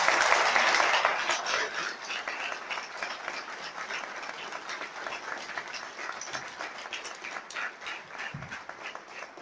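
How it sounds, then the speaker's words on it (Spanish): Sustained audience applause at a memory and identity festival on a Saturday afternoon, loudest at the start and then settling into steady, dense clapping throughout with no talk over it. "les vuelvo a pedir que le renuevan el aplauso para todos juntos"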